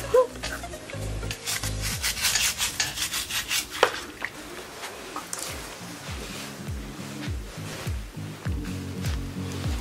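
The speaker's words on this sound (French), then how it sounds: "Il est très important d'utiliser une brosse comme celle-ci pour enlever toutes les saletés" A stiff brush scrubbed over bare feet to clear away dirt and dead skin, giving steady rasping rubs in repeated strokes, close and fairly loud with no talking.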